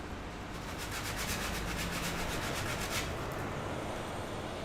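Sandpaper is rubbed across the back of a painting in a steady, loud, close scraping hiss that barely changes level throughout, with no voices.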